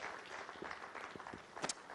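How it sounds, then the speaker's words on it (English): An audience at a business breakfast meeting applauds a speaker with soft, distant, continuous clapping, a faint wash of many hands that carries a few slightly sharper claps near the end. "A round of applause for"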